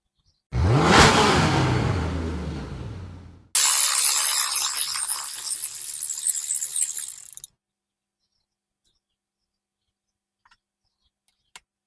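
A car engine running without its thermostat cranks and catches with a loud rising rev, then a harsh broadband roar follows before cutting off into near silence with a few faint clicks.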